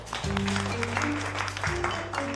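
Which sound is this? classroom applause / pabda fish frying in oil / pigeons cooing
classroom applause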